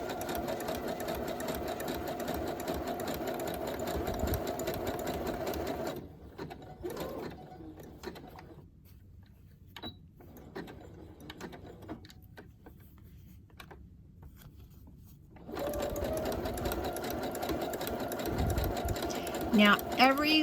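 Sewing machine stitching a basic zigzag: steady rapid mechanical whirring at the start and end, with a quieter stretch in the middle where the motor pauses and faint handling noises fill the gap.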